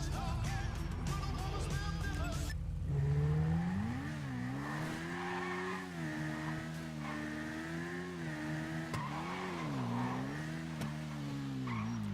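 A car in GTA Online accelerates hard from a standstill, its engine revving up through rising, wavering gear pulls and staying loud and steady throughout with no talking.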